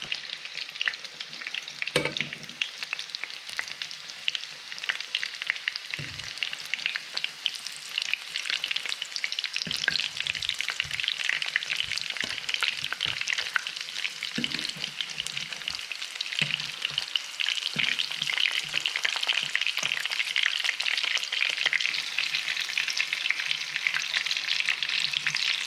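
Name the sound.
lobster frying in olive oil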